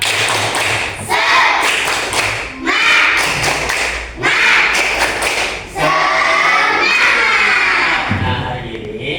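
Schoolchildren in a classroom doing a rhythmic spirit clap, with bursts of group clapping and chanting voices repeated in several rounds, loud and close.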